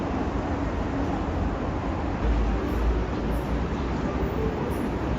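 A Chuo line train passes near Kujo Station in Osaka, a steady broadband rumble with low-frequency surges partway through, continuous and fairly loud with no speech.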